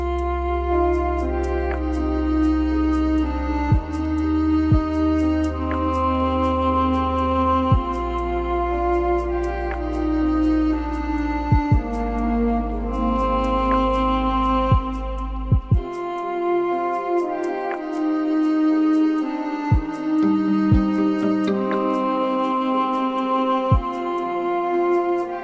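A lo-fi music beat built from hi-hat, snare and drums, with steady sustained tones and periodic sharp percussive hits spread across a calm, continuous loop.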